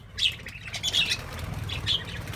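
Pet budgies around a nest box holding a clutch of eggs squawk and chirp in sharp bursts, with a flurry of wing flapping, close and fairly loud.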